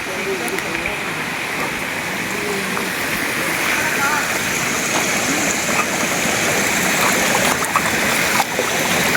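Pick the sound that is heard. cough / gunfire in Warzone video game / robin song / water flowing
water flowing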